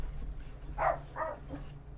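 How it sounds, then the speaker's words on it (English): A dog gives two or three short barks in a game setting, fairly close, over a low steady hum and without any talk. "I apologize for all the barking."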